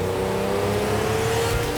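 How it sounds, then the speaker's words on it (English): A 1980s supercar's 5-litre V12 engine roars in a brief, loud, sustained drone that sounds close and powerful, with no voices over it. "when you unleashed its 5-litre V12"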